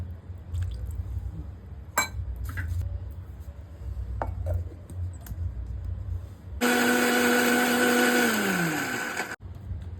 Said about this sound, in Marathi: चटणी बघा आपली बारीक वाटून झालेली आहे